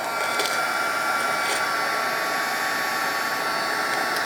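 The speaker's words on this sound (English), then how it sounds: "I'm going to take the heat gun to it some more." A heat gun blows steadily on a dollhouse miniature dresser during a makeover, a continuous airy roar with brief faint crackles, close and alone with no talk.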